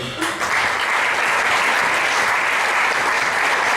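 A conference audience applauds a speaker after a talk on colonizing Mars, a loud, dense, sustained wash of clapping that holds steady from start to finish.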